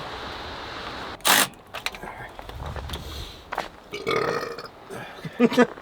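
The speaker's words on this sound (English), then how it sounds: "Victory belch." A short, loud belch bursts out near the mic, followed by scattered clicks, shuffling and quiet mechanical handling noises during a radiator swap on a 1995 Ford Mustang GT in the snow.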